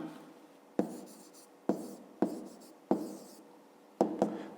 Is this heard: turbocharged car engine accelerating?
no